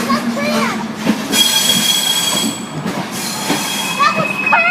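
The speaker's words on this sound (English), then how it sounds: "The Enterprise, look at the speed of it." The Enterprise passenger train to Dublin rushes past at speed at Belfast Central station, loud and close, with rumbling wheels, clattering rail joints and squealing tones, while excited voices talk over it.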